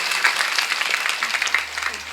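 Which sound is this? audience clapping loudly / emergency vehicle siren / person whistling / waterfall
audience clapping loudly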